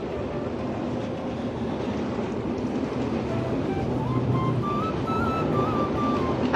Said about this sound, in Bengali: আর ট্রেনের শব্দও কিন্তু আপনারা পাচ্ছেন হয়তো